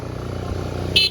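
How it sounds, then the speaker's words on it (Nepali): A motorbike engine hums and drones close by on a hill road, a brief steady rumble that rises slightly at the end, with no one speaking. "बाइकहरू पनि आइरहेको छ।"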